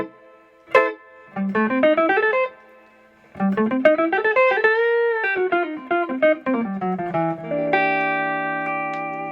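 Electric guitar phrases, a 1965 Fender Stratocaster, played through a vintage amp with heavy reverb: quick note runs and bends, a sustained vibrato chord and ringing tails, with no talk.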